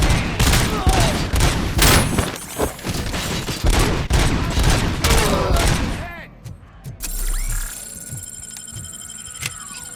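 Gunfire in Robocop: Rogue City: rapid, loud bursts of shots crackle for about six seconds, then thin out into a few scattered shots over a mechanical hum and clatter. Enemies shout during the firefight.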